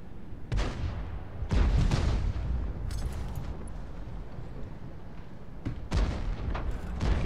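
Heavy booming shots from the M40/M43 self-propelled artillery in a tank video game, several deep blasts with rumbling tails, loud and close, with no talking.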